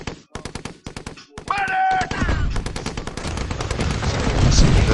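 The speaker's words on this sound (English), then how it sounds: "those artillery guns that just like blast from far away, they shred you" Heavy gunfire in the Empires and Allies strategy game, with rapid bursts of machine-gun-like shots giving way to a dense, sustained barrage of distant artillery blasts that swells loudly over the last few seconds.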